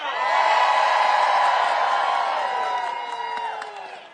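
Crowd of protesters cheering outdoors at a demonstration against DOGE at the consumer protection bureau, a sustained swell of whoops, yells and shouting voices that holds loud for a few seconds, then gradually trails off.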